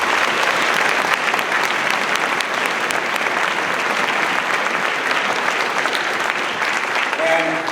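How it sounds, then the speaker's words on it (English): Steady, sustained applause from an audience at a high school fall orchestra concert, dense clapping filling the hall at full volume throughout with no break. "Please give them applause."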